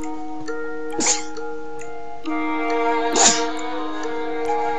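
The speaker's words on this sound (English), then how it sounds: "I'm gonna sneeze, guys, sorry." Two short sharp bursts about two seconds apart over a steady humming tone, sounding like someone sneezing close by.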